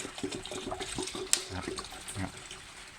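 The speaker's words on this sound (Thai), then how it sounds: "เทเลยครับ นะครับ เทลงไปเลยครับ คว่ำลงไปเลยครับ" Tobacco-infused liquid is tipped out of a container into another for homemade insect repellent, producing faint gurgling glugs and splashes with a brief sharp knock midway, close and quiet, with no speech.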